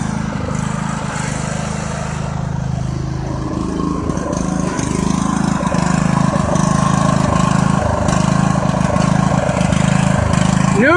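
A riding tractor's engine runs at a steady idle, a close, continuous low mechanical drone with an even rumble and no speech over it.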